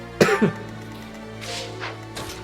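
A single sharp cough, a short burst with a quick second hack, followed by a couple of softer breathy throat sounds in an otherwise quiet room.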